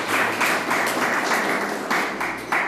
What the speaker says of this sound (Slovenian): Tako da dajmo gospoda en aplavz